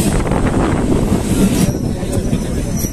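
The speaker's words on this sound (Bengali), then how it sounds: "15 মিনিট লেট করার পরে ভাই ট্রেন ঢুকছে" A passenger train pulls into a station, its steady heavy rumble of wagons and rolling wheels close by, with faint wheel squeal riding over the continuous roar.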